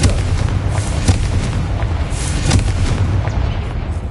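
A Confringo blasting spell in the Hogwarts Legacy game sounds as a dense, loud volley of booming, crackling blasts, several sharp explosive hits rolling over each other without pause.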